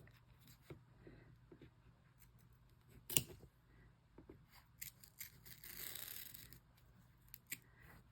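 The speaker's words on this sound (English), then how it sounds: "Now, if you have nice sharp scissors" Quiet, scattered snips and scraping cuts of scissors through thin vinyl, with one sharper snap and a brief rustling stretch, irregular and close.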